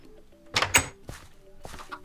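Wooden door opened in Minecraft, a pair of quick knocking clunks close together followed by a softer thump, over quiet game ambience with no talk.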